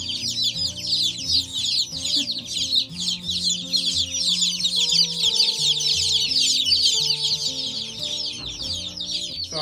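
Many baby chicks chirp continuously in a brooder box, a dense, steady chorus of high peeping close by with a low hum underneath and no talking.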